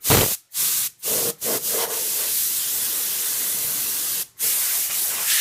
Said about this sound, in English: I'm just going to use a little air duster here to